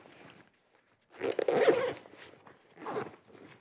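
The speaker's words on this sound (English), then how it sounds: "You zipper it closed." A zipper on the carrying case of a GVM 832 LED light panel is drawn in a few bursts, a short pull followed by a longer rasping run and a final quick tug, close and clear with no talking.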